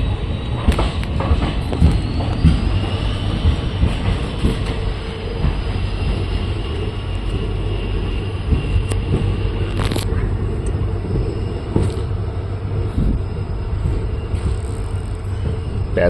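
A train runs past Belagola railway station, a steady rumbling roll with rail clatter lasting throughout, moderately loud and close, with no talk over it.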